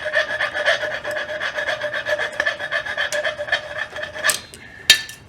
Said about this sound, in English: I'm gonna take a file and I'm just gonna slowly work that little ridge in there down